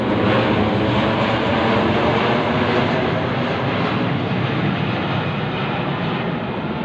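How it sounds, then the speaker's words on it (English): Military jet flying overhead in Sydney city, a loud, broad continuous roar that stays steady and dominant for several seconds with no talk. "maybe the mobile will pick up the army jet over my head"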